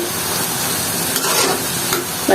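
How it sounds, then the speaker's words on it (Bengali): Taro leaves (kochu shak) stir-fried in oil over lowered heat, a steady close hiss of frying with scraping stir strokes through the 2.4 seconds, no voices. "চুলার আঁচটা একটু কমে করে এগুলো তেলের উপরে করতে হবে।"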